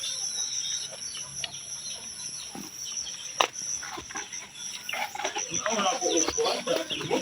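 Native hens on a farm, newly laying, give scattered soft clucks against steady outdoor insect hum, with a sharp knock midway and busier clucking toward the end.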